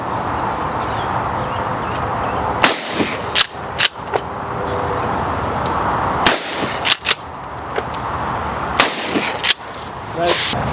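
A Mossberg pump shotgun fires outdoors at thrown clay targets, several sharp reports, some in quick pairs, cracking over a constant background rush.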